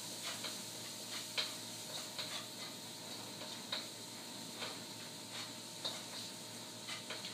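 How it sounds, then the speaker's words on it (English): Onion sautéing in a pan makes a soft, continuous sizzle, broken by light, regular clicks and taps of stirring throughout. "then we'll saute it for a few minutes until the onion gets translucent and releases its flavor"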